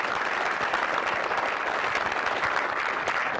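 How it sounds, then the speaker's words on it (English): Applause from a conference audience honoring military veterans, a dense, steady wash of clapping filling the room throughout. "So for Mr. McEachin, a round of applause"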